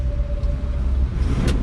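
A 1978 Ford F100 engine with a touchy throttle idles in a loud, deep rumble up close, with a slight lift in revs near the end of the brief burst.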